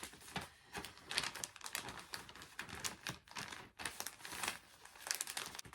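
Wrapping paper crinkling and crackling as it is flattened and concertina folded around a Squishmallow plush, with dense, continuous rustling bursts close up and no talking.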